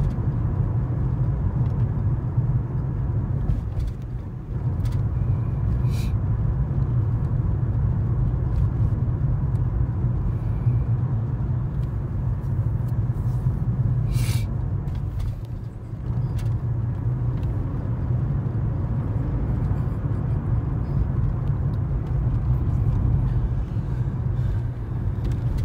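A Toyota Lexus hybrid car drives along a road after a hybrid battery repair, heard from inside as a steady low cabin rumble of tires and road noise that runs unbroken for nearly half a minute, with no talk.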